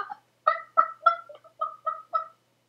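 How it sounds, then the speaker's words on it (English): Hen clucking in English courseware for young learners: seven short, bright, evenly spaced clucks, fairly close and clear, alone with no talk. "Where is that hen?"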